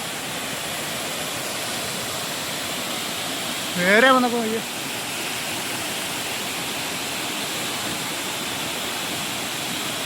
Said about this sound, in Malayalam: എങ്ങനെയുണ്ട് നമ്മുടെ മൺപിലാവ് വെള്ളച്ചാട്ടം?